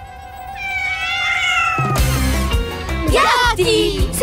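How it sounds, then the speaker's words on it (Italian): Cartoon cats in Dora and Friends meow loudly and repeatedly, rising wails that overlap into a frantic chorus, with what may be voices mixed in. "Gatti!"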